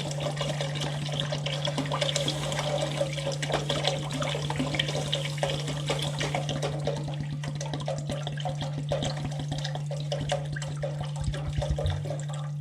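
Water pours steadily into a large gumbo pot for a long, even stretch of rushing, splashing flow over a constant low hum, fairly quiet and with no talk.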